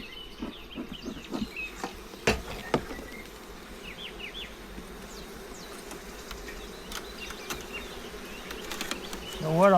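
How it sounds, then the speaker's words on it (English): Honey bees hum in a steady, close drone around a beehive's honey super, joined by scattered sharp clicks and taps and faint background noise. "There's a few bees on it."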